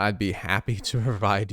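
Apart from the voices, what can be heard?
None of the usual background noises is heard.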